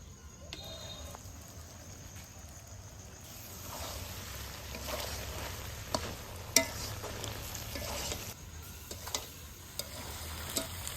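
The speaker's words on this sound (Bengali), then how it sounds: "এবার ভালো করে সব মশলাপাতি একসঙ্গে কষে নিব আবারও দিয়ে দিম হচ্ছে সরিষার তেল" Spices sizzle and fry in mustard oil with mutton tripe while being stirred, a soft steady crackle with a few sharp clicks of the utensil against the pan.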